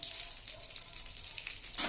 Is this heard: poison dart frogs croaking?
no